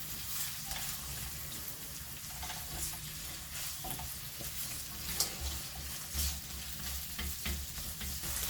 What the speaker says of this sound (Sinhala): අපි දැන් මේක හොඳට කලවම් කරගෙන අපි මේ ලුණු ටික පොඩ්ඩක් රන්වන් පාට වෙනකන් හොඳට තෙම්පරාදු කරගමු.